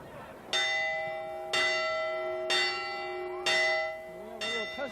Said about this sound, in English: A little touchdown bell right there.